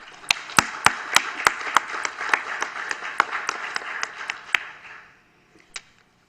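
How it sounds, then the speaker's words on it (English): A city council meeting room breaks into applause, a crowd clapping steadily with some sharp nearby hand claps standing out, then fading to silence with one final clap. "I'm going to call for some applause too."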